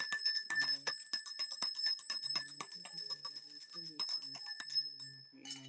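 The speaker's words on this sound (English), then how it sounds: "Let's just ring the bell" A bright bell rings with a sustained high tone, struck repeatedly with sharp tinkling hits throughout, fading briefly near the end.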